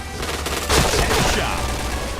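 Bursts of rapid gunfire from the online shooter game Point Blank sound loud and close, a dense fusillade of shots over a noisy game mix.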